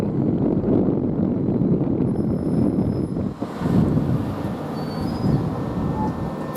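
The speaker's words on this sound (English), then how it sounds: "Now this train from London Victoria to Gillingham is just now departing at 12:40." A Class 375 electric train departs Rochester station, its broad low rumble and wheel noise rolling steadily throughout, with a faint high whine, some wind buffeting on the microphone, and no voices.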